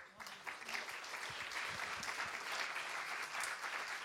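An audience at an evening event applauds the participating associations, a steady wash of clapping that holds evenly throughout at fairly low level.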